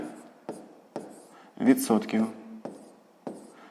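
Pen writing on paper while working a sixth-grade math exercise, a few short scratchy strokes spaced apart, with a brief stretch of someone talking in the middle.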